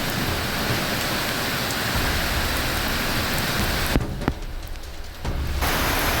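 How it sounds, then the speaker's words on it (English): Heavy rain in Trinidad and Tobago pours straight down onto the ground in a steady, dense hiss. Near the end the downpour briefly thins and softens, then returns at full strength. "how the rain falls from the sky coming straight down to the floor"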